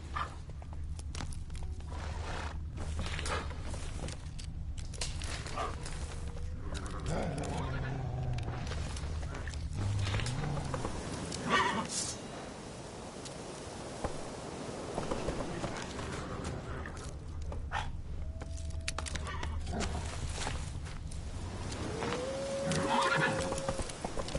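Roach the horse in The Witcher 3 Wild Hunt on PS4, snorting and neighing, with hooves clopping along and a man briefly urging it on.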